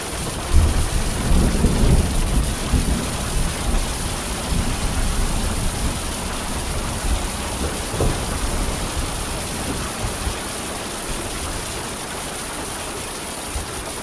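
A summer thunderstorm pours rain steadily while a loud, close thunder rumble rolls in early on and fades out, followed by continuing rainfall.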